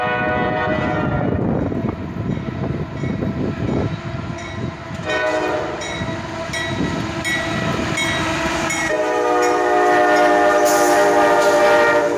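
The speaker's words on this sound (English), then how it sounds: "Another 3 locomotives running elephant style." Three heavy CSX freight locomotives running nose to tail rumble past close by, wheels clanking, as a loud multi-tone train horn sounds in long blasts that grow stronger toward the end.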